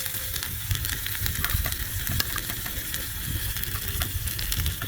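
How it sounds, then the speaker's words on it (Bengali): Spice masala sautéing in a miniature pan for a quail egg curry, a continuous close sizzle broken by frequent sharp crackles and pops. "মশলাটা ভালোভাবে কষিয়ে দেবো।"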